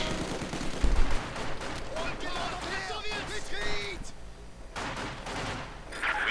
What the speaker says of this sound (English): Field gun fire, Panzerwerfer fire, S-35s moving up.